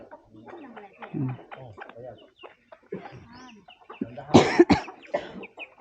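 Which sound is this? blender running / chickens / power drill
chickens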